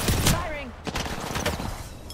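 Gunfire in Apex Legends rattles out in a fast, loud burst of shots with sharp cracks spread through the stretch and a game voice line faintly beneath.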